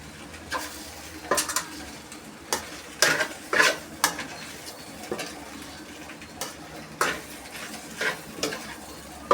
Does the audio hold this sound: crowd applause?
no